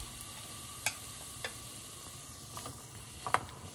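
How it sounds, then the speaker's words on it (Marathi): Grated chikki jaggery melts in a tablespoon of ghee in a kadai over medium-high flame. A faint, even sizzle carries a few sharp spoon taps and scrapes against the pan, close up, with no speech. "आता त्याच कढईमध्ये 1 टेबलस्पून तूप घ्या. ह्यामध्ये 350 ग्रॅम किसलेलं चिक्कीचं गूळ घाला."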